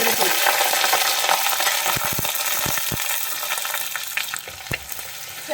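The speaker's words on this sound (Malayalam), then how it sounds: "ഞാൻ ഇതാ ഒരു പച്ചമുളകൊക്കെ മാറി ജസ്റ്റ് ഒന്ന് മൂത്ത് വരുന്നത് വരെ നമുക്കൊന്ന് വഴറ്റി കൊടുക്കാം" Ginger, garlic and green chilli fry in hot oil in a pan for a Kerala-style sardine curry, giving a steady loud sizzle with occasional clicks of stirring throughout.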